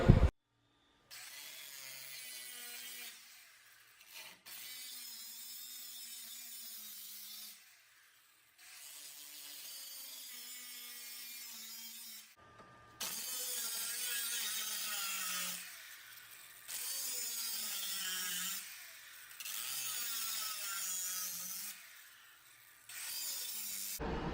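A power tool cuts the transmission tunnel of a Lexus IS300 during a manual swap, a loud harsh whine in repeated bursts of a few seconds each, separated by short pauses.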